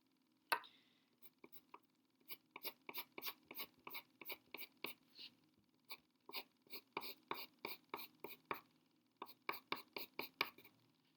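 A pencil scratches quick cross-hatching lines on paper, dozens of short, sharp strokes in rhythmic clusters with brief pauses between groups, close and quiet with no talking.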